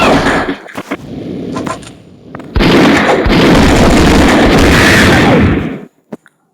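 A bomb blast in the Mini Militia shooter game: a few short sharp pops, then a loud sustained explosive roar lasting about three seconds, followed by small pops and silence.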